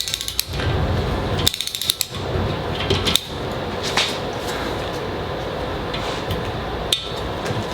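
Ratchet wrench clicking as 10 mm bolts are tightened on a Subaru STI engine during a rebuild, bursts of close metallic ratcheting with a few sharp knocks and pauses between strokes.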